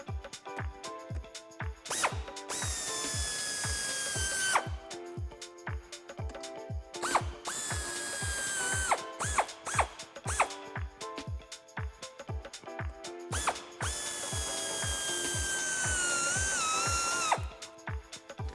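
An 8mm socket on a power tool spins bolts out of a Jeep Wrangler JL during a suspension lift install, loud whirring bursts alternating with rapid clicking, repeated several times up close.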